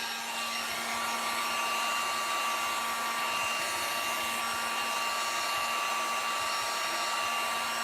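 A craft heat tool blows a steady, loud, airy whoosh while drying Mod Podge on Dollar Tree wooden planks, holding constant and close with no voices.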